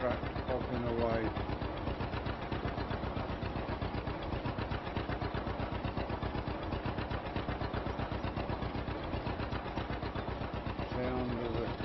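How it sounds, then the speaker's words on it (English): A vintage 1940s tractor engine popping away while cultivating on a farm, a steady rapid rhythmic putt-putt firing that runs evenly throughout, with someone talking over it. "Sound of that tractor popping away."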